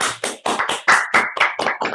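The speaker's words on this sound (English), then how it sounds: "Let's clap for madam." Audience in a homeopathy clinic session clapping for a patient, around nine distinct claps in a quick steady rhythm, close and clear with no talk over them.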